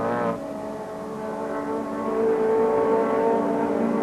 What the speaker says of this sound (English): Soper in the red and black Ford Sierra Cosworth is attacking the race leader, Andy Rouse.